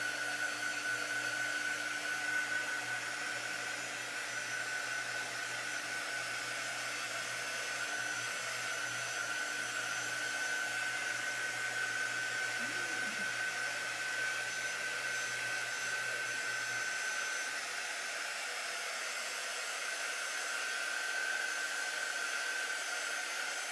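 A hair dryer blows a steady, loud, even whoosh across a freshly stamped card with white on red, running without a break the whole time.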